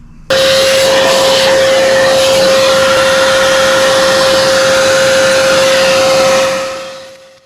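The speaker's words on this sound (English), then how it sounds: "I'm also going to hoover out this airbox in here because there's quite a bit of stuff in here, leaves and bits like that." A vacuum cleaner hoovers debris out of the airbox of a 2010 Audi A3 1.6 TDI, a loud steady whine that runs continuously and then winds down as it switches off.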